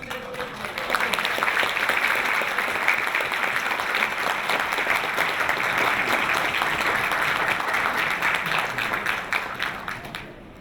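Audience applause at a peace event in Myanmar, rising quickly after a short pause into long steady clapping from a large crowd, then fading at the end.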